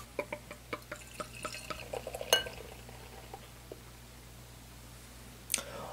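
A Blood Bros. Paradise Lost spiced cherry sour ale being opened and poured into a glass, a quick run of small clicks and clinks followed by a soft hiss and a faint fizz near the end, close and quiet.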